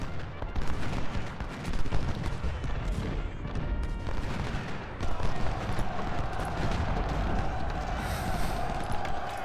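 Battlefield gunfire in the video game Ultimate General: Civil War, a sustained rattle of massed musket volleys and distant booms, moderately loud and continuous across the scene.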